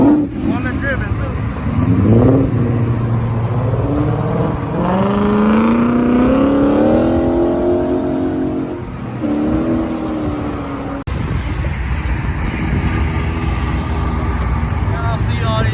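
Muscle cars at a car meet rev and accelerate hard, loud rising exhaust notes sweeping upward repeatedly over a constant rumble, with people talking and cheering nearby.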